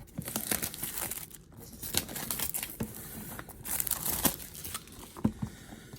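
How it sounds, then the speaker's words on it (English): Plastic wrapping is peeled and torn off the box of an Anker PowerExpand Elite Thunderbolt 3 dock, a close series of irregular crinkles and crackles with short pauses and no talk. "Go ahead and take off our plastic here."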